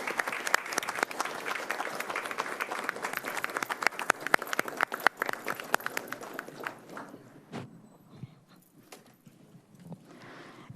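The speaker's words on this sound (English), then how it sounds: "A round of applause for Dr." Audience applause at a school board meeting, brisk and fairly loud at first, then thinning out to scattered claps before fading.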